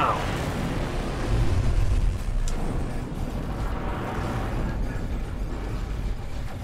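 Gunfire and explosions in the No Man's Sky video game: rumbling blasts and a heavy low boom, then a sharp crack, fading into a continuous noisy rumble.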